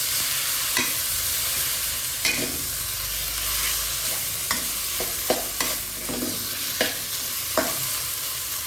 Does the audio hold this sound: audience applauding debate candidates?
no